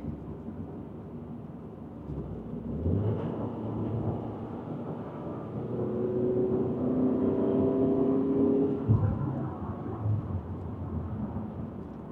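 A tractor passes on a road in Canada, its low engine rumble swelling steadily over several seconds and then easing, heard from inside a vehicle with a muffled background hum.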